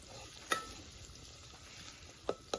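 Chicken frying in a pan with onion, green chilli and tomato, a steady sizzle with a few sharp stirring clinks near the start and end.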